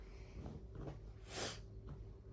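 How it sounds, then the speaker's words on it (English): A single short sniffle, a quick nasal breath in, close and fairly quiet against a faint hum. "I always sniffle in my videos."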